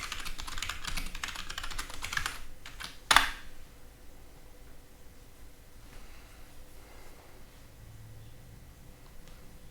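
Computer keyboard typing in a quiet room, a continuous patter of small keystrokes heard alone with no voices.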